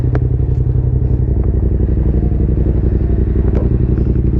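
A Yamaha R7 sport motorcycle with its engine running loud and steady at close range, a continuous throbbing rumble with occasional light clatter over it.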